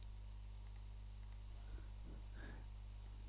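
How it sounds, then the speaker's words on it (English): A few faint, sparse computer mouse clicks on a quiet desk, spread across a few seconds over a low steady hum, with no talking. "maybe I do a few more mouse clicks in sort of the vegetation areas here that it missed"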